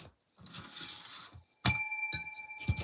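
A small bell struck once, giving a clear, bright ring with a lingering tone that slowly fades, with soft indistinct sounds before it and a light tap near the end.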